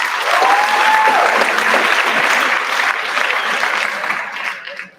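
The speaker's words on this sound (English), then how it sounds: "Clap it up for yourself." Graduates of the Cody High School Class of 2023 applaud themselves at their graduation ceremony, with loud, sustained clapping from a large crowd that tapers off toward the end.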